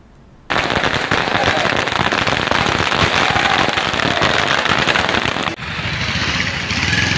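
Firecrackers go off at a farmers' celebration, a dense, continuous crackling burst lasting several seconds, loud and close, before it abruptly cuts to quieter background noise.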